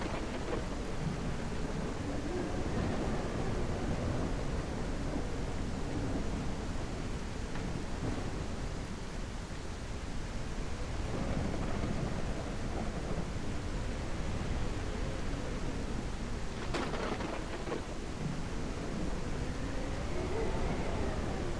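A video game thunderstorm with lightning strikes, steady heavy rain hiss and rolling thunder rumbles throughout, with a sharper crack near the end.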